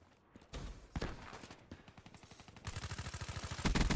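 Bursts of rapid fire from the Kuda submachine gun in Call of Duty Black Ops 3, with short separate shots first and then a fast, even automatic stream that grows louder toward the end, with no speech.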